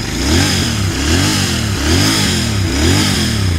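A Royal Enfield 650cc motorcycle with stock exhaust starting and idling close by, its exhaust thumping in a steady, lumpy rhythm with repeated light revs.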